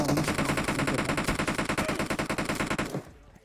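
Rapid automatic gunfire in PUBG Mobile during a fight at Pochinki, a loud, dense burst of closely spaced shots that stops abruptly near the end.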